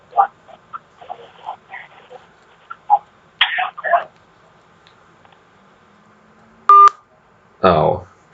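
A short burst of telephone dialing tones sounds on a phone line after scattered quiet talk, followed by a louder voice.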